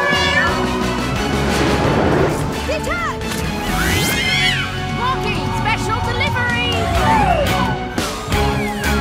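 Cartoon cat meowing in a PAW Patrol episode: repeated high, sliding meows from several cats, loud and close, mixed with crashes and busy cartoon sound effects.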